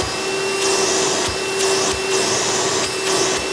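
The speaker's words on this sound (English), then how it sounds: "since this is a direct air vacuum, don't expect miracle suction power" A Hoover Spectrum Elite U5097-930 direct-air upright vacuum runs loudly and steadily up close, its motor drone holding a constant whine with faint periodic rattles from the hose or nozzle.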